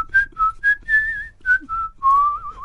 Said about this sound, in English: I'm concentrating on whistling.